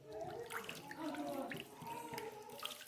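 Water poured into a mixing bowl of flour, sugar and salt for paratha dough, a steady close trickle and splash running continuously for a few seconds.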